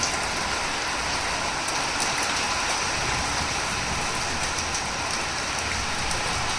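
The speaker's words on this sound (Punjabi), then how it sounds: "ਇਹ ਤੇ ਰਿਹਾ ਮੀਂਹ" Heavy rain pours steadily, a dense continuous hiss of drops drumming on surfaces, with no voices.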